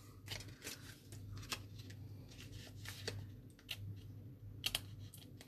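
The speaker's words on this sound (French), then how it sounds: "là je recoupe l'excédent de ma ceinture" Scissors snip away the excess of a ribbon belt on a Stampin' Up! Santa Claus paper box, giving a series of soft, quick clicks and cuts over a low steady hum, close and fairly quiet.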